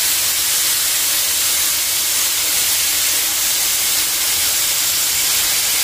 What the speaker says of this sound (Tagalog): we have to fry the other side